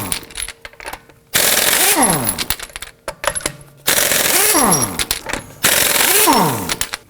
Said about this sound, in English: Using a 21mm socket, let's loosen and remove our lug nuts.